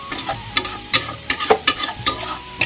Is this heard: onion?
yes